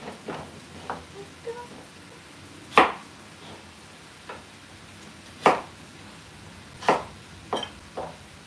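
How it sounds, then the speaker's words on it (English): A knife chops celery on a board in irregular sharp taps, some louder thuds standing out among fainter cuts, close and clear over a quiet kitchen background. "Chop a celery kind of small."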